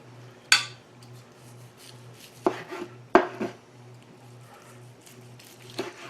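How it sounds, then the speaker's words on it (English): A knife slices through a ham glazed with brown sugar and crushed ginger snap cookies, with a few sharp, close cuts and clatters spaced out against a quiet room hum. "I would take this whole ham, I would slice it off just like I'm doing"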